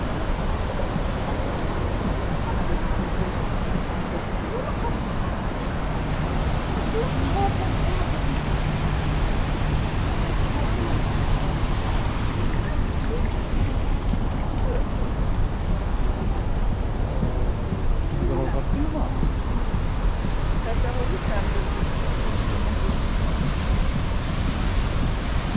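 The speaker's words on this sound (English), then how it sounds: "I love the sound of the waterfall." Steady broadband rushing of falling water, continuous and fairly even, from a nearby waterfall in Quebec City, with no voices.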